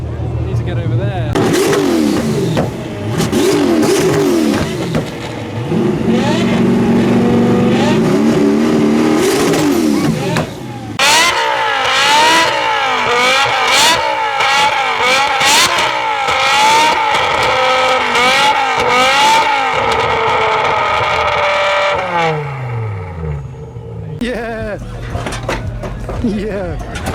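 A BMW M5 engine at a car show, revved repeatedly with loud rising and falling whines close by, while people talk and crowd noise fills the background.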